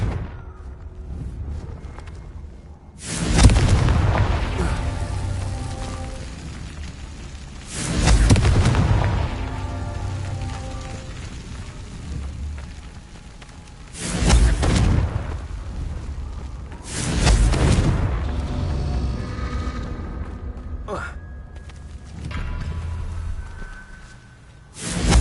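Four heavy booming blasts from the Confringo fire spell in Hogwarts Legacy erupt at uneven intervals, each a loud burst trailing into a rumbling decay over the game's ambient sound.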